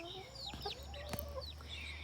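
Backyard hens clucking softly nearby, a scatter of short calls over a steady low background hum.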